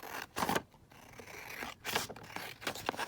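Scissors cut through paper around a flower fairy image, several close crisp snipping and scraping strokes separated by short pauses.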